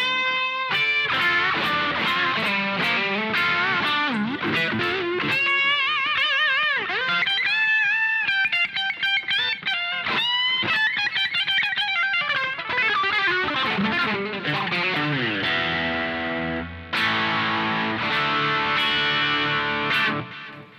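Loud, heavily distorted Squier Classic Vibe '50s Stratocaster electric guitar plays sustained chords and riffs with a chorus-like shimmer, continuous and up front with no voices.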